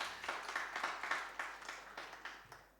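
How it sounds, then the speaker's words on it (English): An audience gives a round of applause, a faint, scattered spell of clapping that fades toward the end. "Yes, a round of applause for him."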